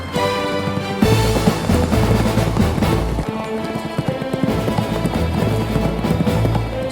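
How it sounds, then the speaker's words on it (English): Hooves of a galloping horse clip-clop rhythmically out of a thick dust cloud, fast and steady under a dense, music-like backdrop in a dramatized Zagor adventure scene. "de la espesa nube de polvo apareció un caballo"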